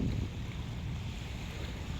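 Wind gusts at the Manila Bay beach buffet the microphone in a low, rumbling roar, steady and blustery throughout with no speech.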